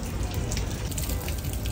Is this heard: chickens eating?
no